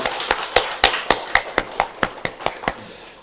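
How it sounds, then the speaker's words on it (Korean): Scattered hand claps in a church congregation, a dozen or so sharp separate claps in an irregular rhythm, fairly close and thin rather than a full crowd roar, with no talking over them. "우리 수고해주신 모든 식구님들을 위해서도 특히 응원의 박수 한번 부탁드리면 좋겠습니다"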